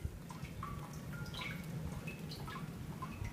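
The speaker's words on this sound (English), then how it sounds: "filled with ice cold water running down with a gravity fed tube" Ice cold water running down a gravity-fed tube from a 55-gallon bucket in a snowy backyard, a steady trickling wash with scattered small drips and gurgles throughout.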